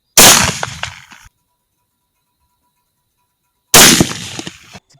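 Two sharp, loud 6mm BR rifle shots ring out a few seconds apart during night mouse shooting, each a sudden crack followed by a short echoing decay, with silence between them.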